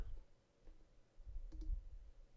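A computer mouse gives a few faint, sparse clicks close to the microphone over a low room hum. A quick pair of clicks comes midway.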